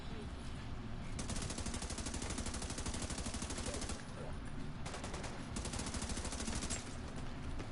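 A P416 rifle in a video game fires rapid, sustained automatic bursts, two long strings separated by a short pause, dense and steady throughout.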